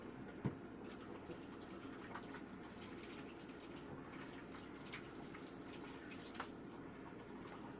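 Hot water runs steadily from a sink tap in a soft, even hiss, with a faint clink or two, heard quietly and alone.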